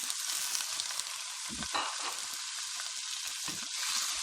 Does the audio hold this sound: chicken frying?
yes